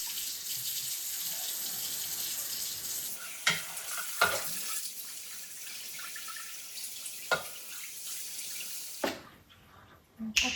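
Dishes being washed under a running tap in a home kitchen: a steady hiss of flowing water with scattered clinks and knocks of dishware, a couple of sharper clatters, and the water cutting off near the end.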